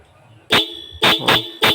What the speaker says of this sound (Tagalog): I-try ko ang busina kung tutunog ba.